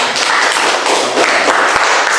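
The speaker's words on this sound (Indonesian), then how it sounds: "tepuk tangan" Classmates clapping after a group presentation in a school classroom, a short burst of many hands applauding loudly and steadily, alone without voices.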